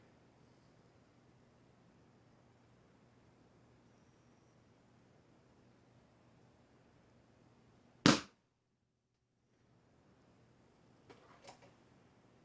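A single sharp, loud crack from a Crosman Nitro Venom Dusk air rifle shot, followed by brief near silence and a couple of faint clicks, with a low steady hum before it.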